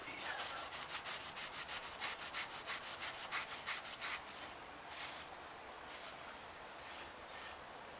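Old brake dust being scrubbed off Lincoln MKS brake parts, quiet rhythmic rubbing strokes in a fast steady series that slow and fade into a few softer scrapes.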